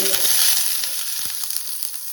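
Chopped onion frying in a pan, a bright continuous sizzle with a few soft stirring knocks, close and steady.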